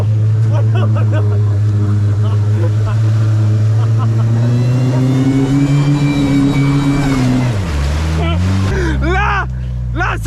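An ARO 4x4 engine revs hard off-road, holding a loud steady drone, then climbing and dropping sharply as the driver works the throttle, while people shout excitedly over it.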